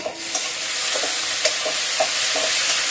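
Food in a frying pan is stirred with regular spoon scrapes over a loud, constant sizzle, heard up close.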